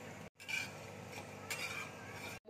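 Whole spices sizzle in hot oil in a pan for Kadai chicken: cumin, bay leaf, black and green cardamom, cloves, cinnamon, black pepper and a dried red chilli. A steady, close crackling hiss with a short break near the start and no talking.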